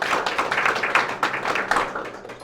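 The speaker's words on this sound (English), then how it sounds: "I just want to give a quick round of applause to my tech team" An audience at a lecture on Ossorian origins gives the tech team a brief round of applause: a few seconds of brisk, close clapping from a modest crowd, fairly loud and uninterrupted by talk.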